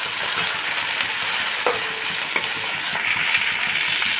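Chopped onion and tomato hit hot oil for a prawn dish, producing a strong, continuous close sizzle broken by a few sharp stirring clicks, with no voices.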